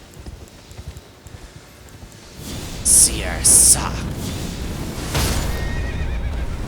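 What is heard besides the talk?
horse neighing and hooves in video game Elden Ring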